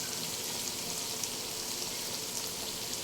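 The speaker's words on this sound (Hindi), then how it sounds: "तो इस तरीके से इसको अच्छे से मैं फ्राई कर लूँ।" Minced meat keema with potatoes frying in a pan in a home kitchen, a steady dense sizzle like light rain that holds evenly throughout, close and fairly soft, with no talking.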